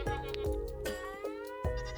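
A sheep in the video game Miniland Adventure bleats several times, close and clear, in a quick run of wavering cries with short gaps between them and no talk.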